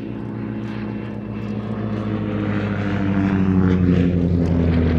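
A Percival Provost propeller trainer flies at an air show, its piston engine droning steadily and growing louder as it approaches, with no talk over it.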